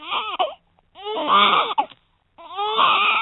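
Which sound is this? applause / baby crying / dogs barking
baby crying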